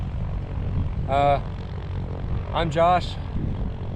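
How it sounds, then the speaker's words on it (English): A small propeller plane flying away over remote Alaska leaves a steady, fairly distant drone, with someone talking over it twice. "Well, there goes my plane."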